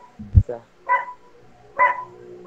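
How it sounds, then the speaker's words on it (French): A dog barks in a few short bursts, moderately close, in a room where people are gathered and talking. "Il aboie tout le temps."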